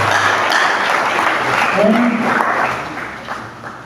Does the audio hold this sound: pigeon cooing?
no